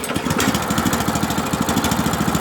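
A Weima WM900M-3 walk-behind tractor engine runs just after starting, a loud, close, rapid rhythmic chugging that pulses evenly throughout.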